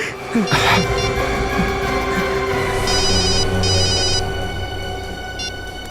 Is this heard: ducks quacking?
no